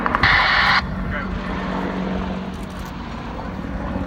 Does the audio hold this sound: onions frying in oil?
no